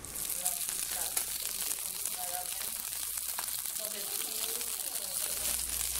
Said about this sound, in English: you want to cook those on each side for about 4 minutes, just so they have a nice sear